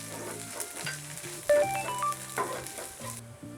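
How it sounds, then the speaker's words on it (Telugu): A full cup of grated dry coconut powder fries in a pan for a coconut egg curry, with a soft steady sizzle and stirring scrapes, while melodic electronic tones play over it in the background. "యాడ్ చేసి బాగా ఫ్రై చేసుకోవాలి."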